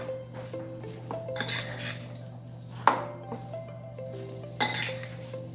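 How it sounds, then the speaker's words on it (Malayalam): Fried, marinated snack ingredients are stirred together in a dish, giving soft scraping and stirring with a few sharp clinks of a utensil against the vessel, close and fairly quiet with a faint background hum. "ഇനി ഇതെല്ലാം കൂടി ഒന്ന് മിക്സ് ചെയ്യുക."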